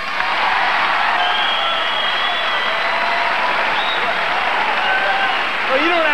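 Sustained audience applause fills a comedy stand-up show, a dense, even wash of clapping from a large crowd that holds steady throughout without pause.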